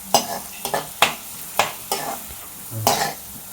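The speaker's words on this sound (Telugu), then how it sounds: "1 గరిటె ఆయిల్ పోసుకుని తర్వాత ఉల్లిపాయ ముక్కలు, పచ్చిమిర్చి వేసి వేపుకోవాలి." Onion pieces and green chillies fry in a ladle of oil, a steady sizzle broken by several loud, sharp stirring scrapes of a spatula against the pan, close and with no talk.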